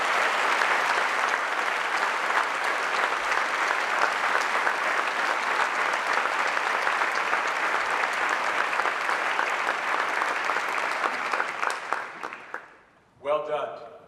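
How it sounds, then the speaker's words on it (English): Sustained applause from a university audience at a State of the University address, a dense and steady wash of clapping that tapers off near the end before a short burst of sound. "And they all deserve a round of applause."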